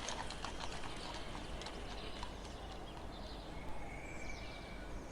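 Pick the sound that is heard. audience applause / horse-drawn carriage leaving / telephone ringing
horse-drawn carriage leaving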